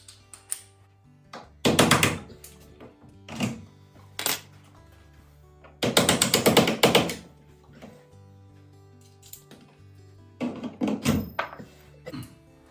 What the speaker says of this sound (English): put it on the bottom, and then tap it, and it'll push this out the top